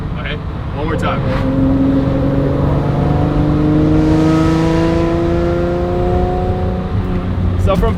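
Lamborghini engine revving from 3,000 up toward 3,500 RPM with a raspy, metallic tone, its harmonics climbing steadily over several seconds, loud and close, easing back down at the end.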